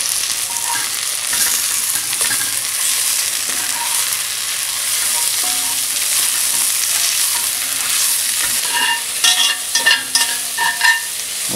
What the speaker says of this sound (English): So I'm gonna stir that in until the whole mix gets nice deep red.